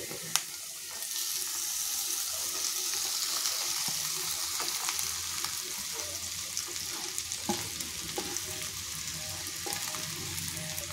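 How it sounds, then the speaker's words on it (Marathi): Roasted okra goes into a pan for bhendi bhaji, giving a steady close sizzle with scattered light clicks and scrapes from stirring throughout. "आता आपण भाजून घेतलेली भेंडी घालू।"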